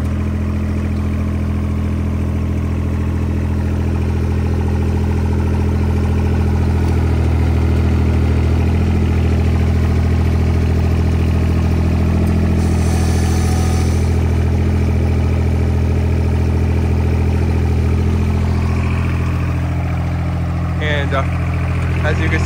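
A small diesel engine on a John Deere 430 garden tractor with a 44 loader rumbles steadily up close for the whole stretch, with a brief mechanical whine partway through as the loader bucket curls.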